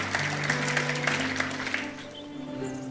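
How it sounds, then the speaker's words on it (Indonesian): Congregation clapping together in a church service, a dense burst of applause that fades out, with sustained organ or keyboard tones held underneath. "Tepuk tangan, saudara."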